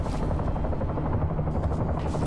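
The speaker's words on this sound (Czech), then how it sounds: "A sakra, slyším vrtulník." Helicopter in the video game Bulletstorm, a dense, steady rotor thrum filling the scene at close range, with rapid choppy pulsing and possible bursts of gunfire mixed in.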